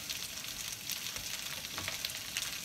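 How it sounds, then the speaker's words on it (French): Cauliflower pieces frying in a pan give a steady, close crackling sizzle with dense spitting pops throughout, and no one speaks. "je répartis mon chou-fleur dans la poêle"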